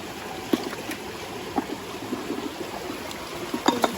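Clear stream water flows among rocks and leaves with a faint, steady trickle, broken by small scattered splashes and light taps up close.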